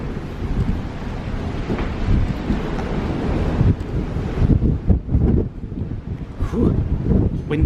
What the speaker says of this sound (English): Windy out here this morning.